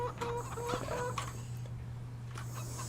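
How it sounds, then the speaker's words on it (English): Chickens cluck and squawk in a chicken coop in a farming simulator game, a steady low chatter of several birds over a constant background hum, with no talk. "This chicken coop."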